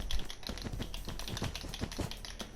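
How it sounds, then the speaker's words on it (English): Rapid computer mouse and keyboard clicking while building in Minecraft, a quick irregular run of close, dry clicks at low level with no speech. "Sorry for the clicking noises, I literally cannot stop that from happening."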